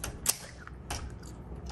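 A 1958 Olympia SM3 manual typewriter gives a few sharp, hard keystrike clacks, spaced irregularly with mechanical rattles between them, close and distinct with no talk.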